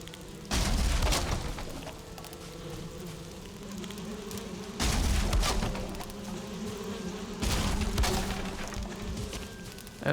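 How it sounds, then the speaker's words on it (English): Insect-like buzzing from bees in the video game Valheim, a steady drone with three louder swells, heard alone without talk over a low background tone. "those bee sounds"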